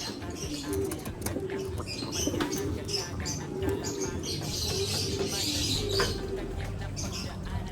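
Pigeons coo softly as they return to their coop at dusk after a typhoon, low repeated calls mixed with scattered chirps and rustling close by, while people talk quietly in the background.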